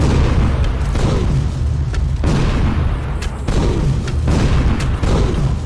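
Mine gun firing in the Dino Crisis video game, a loud continuous barrage of heavy booming blasts and explosions repeating every second or so, dense and close.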